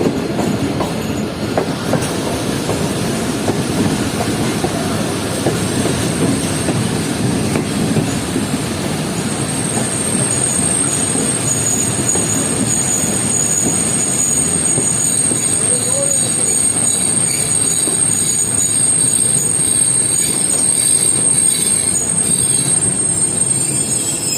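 A train rumbles steadily into Bahawalpur railway station in Pakistan, wheels squealing high and sustained over a loud, continuous rolling clatter that stays close throughout.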